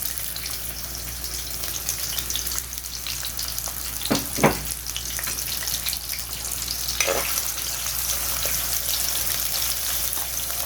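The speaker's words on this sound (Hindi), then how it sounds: "इनको हम पिंक होने तक फ्राई करेंगे।" Sliced onions fry in a pan for chicken haleem, giving a steady, moderately loud sizzle with a few brief stirring scrapes and no talking.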